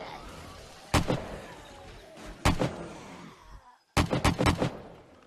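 Gunfire in the survival game 7 Days to Die: loud close shots in separate bursts, a single blast, then another, then a rapid string of four or five shots after a short silence, with dull ambient noise between.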